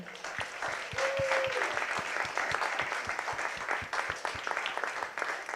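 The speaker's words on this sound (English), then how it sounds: "What about we do one big round of applause and then we do a group picture?" A crowd at a youth hackathon gives a round of applause. Individual claps stand out in an uneven rhythm over the general patter, and the sound is moderately quiet in a large room.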